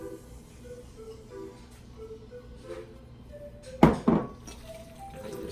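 Pork kabob meat being mixed by hand in a bowl, a low soft churning throughout, with two sharp clinking knocks of a utensil against the bowl near the end.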